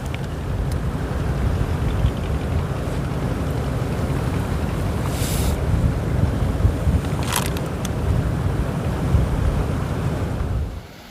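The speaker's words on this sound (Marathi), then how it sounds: "पाऊस पडल्यावर इथे हा एक धबधबा प्रवाहित झालेला. आवाज खूप छान येतोय त्याचा." A waterfall swollen by monsoon rain near Mirya village in the Konkan, heard as a steady, continuous roar of rushing water with wind buffeting the microphone, unbroken from start to finish.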